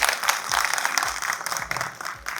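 An audience at a Malayalam movie audio launch event applauds, dense steady clapping from a crowd with a few louder claps standing out.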